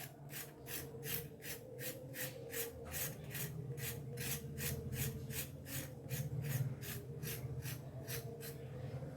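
A knife scrapes the skin off pointed gourd (potol) in a steady run of rasping strokes, about twenty evenly spaced scrapes at close range with no talk.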